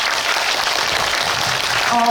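An audience at a film screening Q&A at the Bucheon International Fantastic Film Festival applauds a director and actress, a dense steady wash of clapping filling the room for about two seconds.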